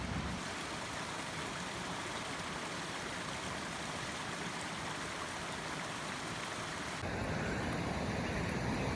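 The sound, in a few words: small waterfall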